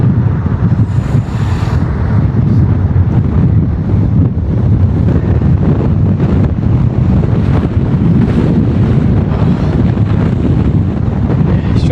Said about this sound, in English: Surely you can hear it's windy.